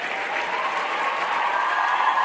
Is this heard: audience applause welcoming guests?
yes